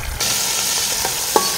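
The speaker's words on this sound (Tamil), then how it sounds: "இந்த இருக்குது வெந்தயம் போடுறேன், பொரியுது" Fenugreek seeds drop into hot groundnut oil and crackle, a sudden loud hiss bursting in after a brief quiet start and holding steady with a sharp pop near the end, close up and without voices.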